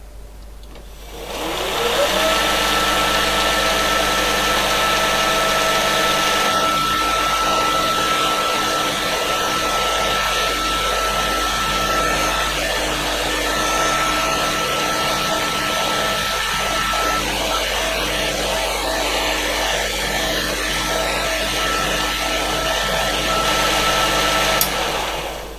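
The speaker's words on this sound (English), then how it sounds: "so we'll start the motor up, and fingers crossed we won't hear any horrible noises" The motor of a Creed 7B Mark 1 teleprinter starts and runs with a steady, loud whirring hum, keeping an even drone for about twenty seconds without voices.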